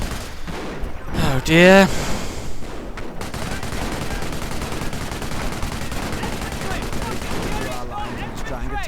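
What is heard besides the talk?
machine gun fire in a WWII strategy video game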